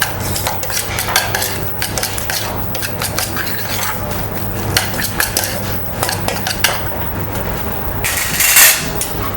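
A spoon mixing freshly cut beef tartare with pepper and Worcestershire in a bowl in a restaurant kitchen, close, busy clinks and scrapes against the dish repeating throughout, a brief voice at the start.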